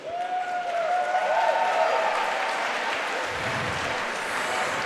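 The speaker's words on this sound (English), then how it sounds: "please put a big round of applause together for both of the fighters" Sustained applause and cheering from the crowd at a combat sports fight night in Burlington, Ontario, a steady dense wash of clapping that holds for about five seconds, with a voice briefly rising over it early on.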